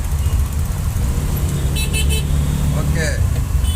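Busy road traffic around a vegetable-loaded auto rickshaw, with a steady engine rumble, passing vehicles and short horn toots, close and loud.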